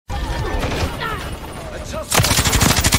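Light machine gun fire from a Call of Duty match bursts in as rapid, loud, sustained automatic shots in the final second, after earlier game sounds and voices talking over it.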